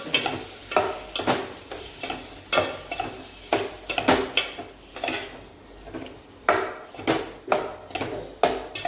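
A spoon scrapes and clanks against a pan while dry potato curry is stirred, giving repeated sharp metallic knocks in an uneven rhythm over a soft sizzle. It is close, moderately loud and has no talking.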